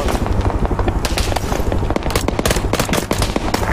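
Automatic gunfire from the military game Arma 3, loud close bursts of rapid shots cracking over one another with a sustained low rumble, dense and continuous throughout.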